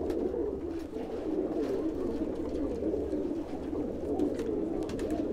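Kasuri pigeons coo steadily in a low, soft rolling murmur, several birds overlapping close by with faint background clatter.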